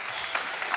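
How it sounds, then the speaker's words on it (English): Audience applause at a squash match during a world championship in China: a brief, steady wash of clapping from the stands, with no break across its short span. "applause by the audience here, the fans"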